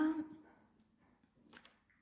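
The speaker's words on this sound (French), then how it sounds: "j'ai la chienne qui essaye de rentrer, elle gratte." A female dog at a door trying to get in, giving soft, brief whimpers and scratching, faint and somewhat distant in a quiet room.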